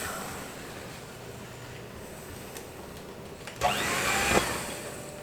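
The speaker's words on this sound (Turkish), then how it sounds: "şimdi çırpıyorum" An electric hand mixer whisking carrot cake batter from a boxed mix, a steady motor whir that grows louder and harsher near the end, close and continuous.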